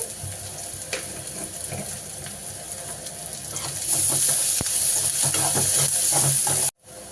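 Onions salted and frying in oil toward golden brown give a close, crackling sizzle with scattered stirring clicks. The sizzle grows louder and brighter partway through, then cuts off abruptly near the end.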